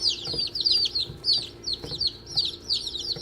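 Close, busy chorus of newly arrived chicks, high-pitched peeps and chirps overlapping in quick repeated bursts, with no talking.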